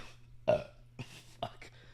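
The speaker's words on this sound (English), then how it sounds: "do you burp a lot?" A person burps, with several separate belches, one loud and close near the start and two shorter ones after it, set against quiet room tone.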